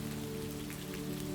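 Gentle rain falls steadily on a surface on a soft evening, a continuous even patter close by with a faint low hum underneath and no voices.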